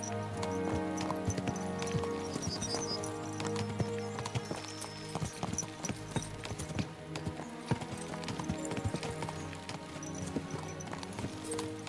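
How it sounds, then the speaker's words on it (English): Horses gallop in Kingdom Come: Deliverance 2, a dense, continuous clip-clop of hooves up close with occasional whinnies, over a layer of tonal game music. "Let's really spur these horses on, eh?"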